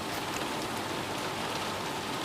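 Steady rain falls continuously, a dense even hiss of drops hitting surfaces, moderately loud and unbroken with no voices.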